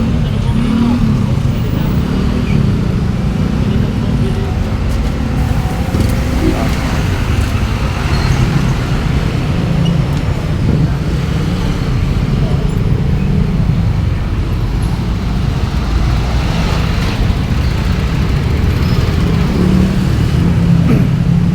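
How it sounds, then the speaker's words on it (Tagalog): A heavy traffic jam builds around a truck stuck in a roadside gutter, with a steady, dense rumble of idling and creeping cars, buses and trucks close by and voices mixed into the constant roadway noise. "At napakahaba na ng traffic ito mga kabayan."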